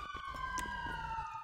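A police siren in the FiveM GTA V game wails in a steady rising-and-falling tone, fairly faint but clear, with light game background clatter underneath.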